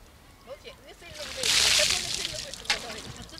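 Schoolchildren outdoors pour buckets of icy water over themselves, a heavy splash and slosh of water rushing down and spattering, loud and close, with voices around it.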